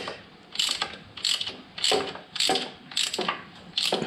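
Ratchet wrench tightening a flange nut on the engine guard of a Triumph Street Triple motorcycle, six or seven quick clicking bursts in an even rhythm, close and clear with no talk.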